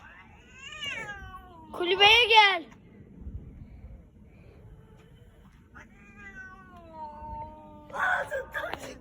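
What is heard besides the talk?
cats fighting and caterwauling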